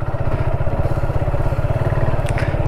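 A motorcycle rides along a rural path in Tezpur in the late afternoon, its engine giving a steady, fast low-pitched putter that runs throughout at close range, with no talk over it.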